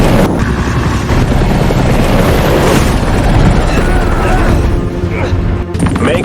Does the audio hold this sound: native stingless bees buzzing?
no